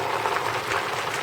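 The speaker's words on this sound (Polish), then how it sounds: "I teraz mieszam to z tą kapustą." Sauerkraut mixed with mushroom water and purée for traditional bigos is stirred in a pot, giving a steady wet bubbling and sloshing at close range with no pauses.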